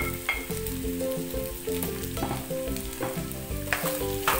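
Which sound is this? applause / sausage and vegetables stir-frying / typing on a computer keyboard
sausage and vegetables stir-frying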